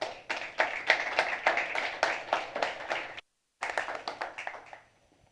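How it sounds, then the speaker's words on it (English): A small audience at an entrepreneurs' pitch event in Lisbon claps to welcome a co-founder to the stage, a modest ripple of individual claps near the microphone that breaks off briefly, resumes, then fades out. "Please welcome with a warm applause Mira Sergiva, co-founder of Talent Kids"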